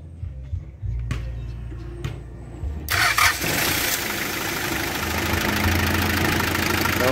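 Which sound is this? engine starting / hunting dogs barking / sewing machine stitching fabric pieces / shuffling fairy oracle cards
engine starting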